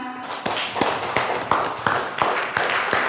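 Close, crisp hand clapping from a small group in an indoor podcast setting, about ten sharp claps in a steady rhythm after a brief voice at the start.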